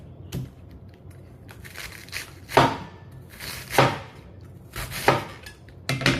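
A knife slices through a washed head of cabbage on a cutting board in a home kitchen, giving four loud crunching cuts spaced about a second apart with softer rustles between them, close and with no talk.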